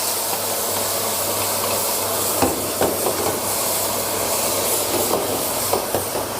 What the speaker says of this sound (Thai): เราก็ผัดให้มันสุกอะครับก็เหมือนเราผัดใบกะเพราหมูสับทั่วๆไป